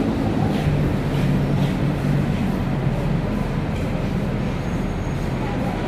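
Rumbling rail noise from trains in a depot near Lebak Bulus, Jakarta, a steady low roar with mechanical clatter heard from nearby, with a faint hum in the background.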